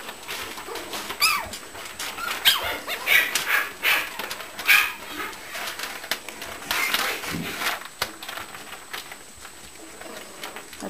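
Older batch of puppies playing in the background, with scattered yips, barks and soft whimpers coming and going at a moderate distance over roughly eleven seconds.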